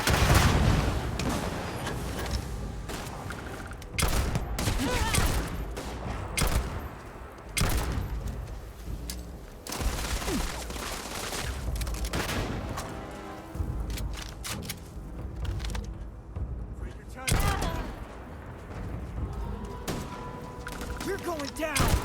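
Gunfire volleys from a firefight in the PC game Starfield, dense and continuous bursts of shots and booms layered over game music, with voices talking through the fighting.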